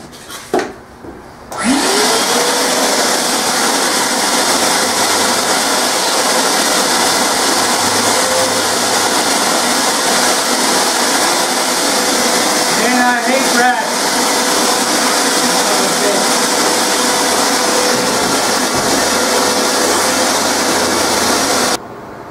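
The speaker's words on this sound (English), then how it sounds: "I want to clean this up real good, get this all vacuumed up." A vacuum cleaner drones steadily and loudly while cleaning out a shack near a still, switching on after a short quiet start and running without a break to the end.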